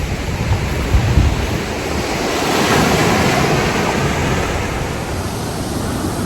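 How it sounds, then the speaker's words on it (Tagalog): Heavy ocean surf roars continuously at Camara Island, Zambales, waves crashing and washing in with strong wind buffeting the microphone. "malakas na yung alon doon"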